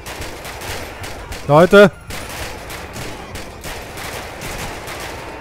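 Rapid bursts of gunfire in a GTA 5 LSPDFR gang shootout, dense crackling shots running steadily throughout, with a short loud shout from a voice breaking in midway.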